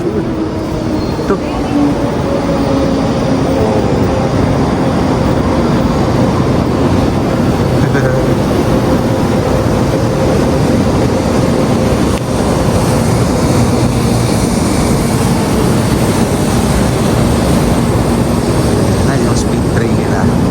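A Taiwan High Speed Rail train runs toward Taichung, heard from inside a car as a steady, loud, continuous rumble and hum that holds for the whole stretch, with people talking over it.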